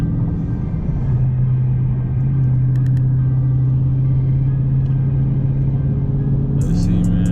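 A 2021 Dodge Charger Scat Pack cruising at steady speed, its engine a constant loud low drone and rumble from inside the cabin, with a brief shift in pitch near the end.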